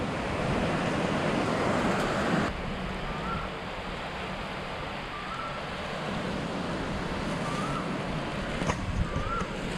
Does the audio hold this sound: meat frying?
no